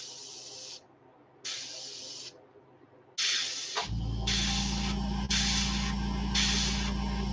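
Airbrush spraying paint onto a trout swimbait lure, several short bursts of sharp hiss, then a steady compressor hum joins as longer spray bursts continue up close.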